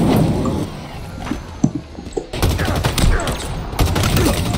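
Halo Infinite multiplayer gunfire, sharp loud shots and bursts cracking in rapid succession with a brief lull midway, the heavy rattle resuming densely near the end.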